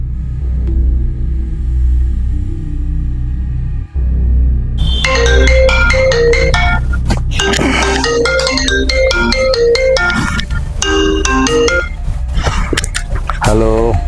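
A phone ringtone plays after a call is placed, a repeating melodic tone pattern that starts partway through over a low rumble, loud and close.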